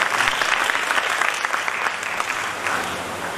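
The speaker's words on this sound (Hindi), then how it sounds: "ताली थोड़ा जोर से बजाएं" Sustained audience applause at an award ceremony in a hall, a dense, steady wash of clapping from a large crowd that stays loud throughout without letting up.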